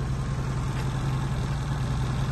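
A 1991 Volkswagen Scirocco GT engine idles steadily with a low, even rumble and faint ticking, no revving, running alone throughout.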